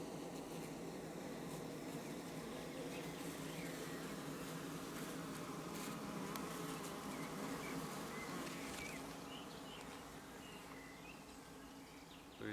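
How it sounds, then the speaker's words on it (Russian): A swarm of bees buzzes steadily inside a wooden log hive, a dense, continuous drone that holds evenly throughout, with no voices. "Туда заселяется рой пчел, и там они отстраивают свои соты"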